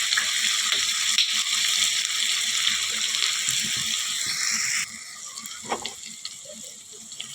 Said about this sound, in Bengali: মশলাটা একটু কষিয়ে গুঁড়ো মশলাটা দেখো, মশলাটা ভাজা হয়ে গেছে